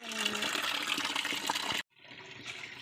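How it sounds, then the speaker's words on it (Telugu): Mangoes being washed under running water, a close steady splashing gush that cuts off abruptly near the end and then resumes more softly. "సో ఈ మామిడికాయలు అన్నీ కడిగేసి మంచిగా దాచి పెడదాం."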